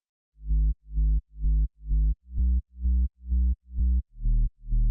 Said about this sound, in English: For the sub I used a simple pulse wave from Silent One.